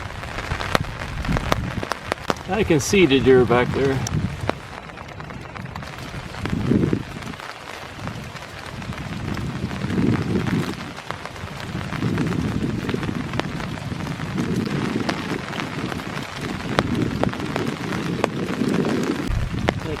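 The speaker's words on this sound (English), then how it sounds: "because of the rain." Rain falls steadily over a foggy park on a winter morning, a constant hiss on the ground with footsteps and someone speaking close by.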